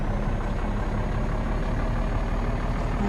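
A truck's diesel engine idles steadily in a truck simulator video game, a constant low rumble filling the whole clip with no talk over it.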